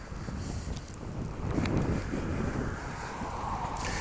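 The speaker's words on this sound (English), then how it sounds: "the wind is kind of really kicking up today" Strong wind gusts blow outdoors near a sidewalk by a jail in Santa Ana, a steady rough rumble buffeting the microphone and swelling midway, with no talk.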